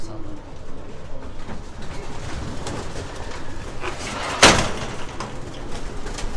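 Racing pigeons coo softly in a loft in a low, throaty rhythm amid rustling and movement, with a brief sharp scrape or slam partway through.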